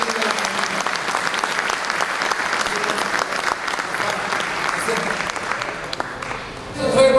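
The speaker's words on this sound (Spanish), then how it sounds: "y que vienen los aplausos más grandes" Large crowd applauding steadily at a mayor's annual public accounts address in San Carlos, a dense sustained clapping across the whole stretch, with a voice emerging near the end.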